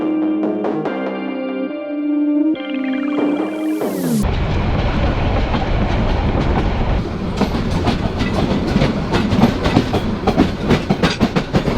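The Upakul Express intercity train from Noakhali to Dhaka runs on rails. Loud, steady wheel clatter and rhythmic clickety-clack build after a brief tonal opening and continue to the end.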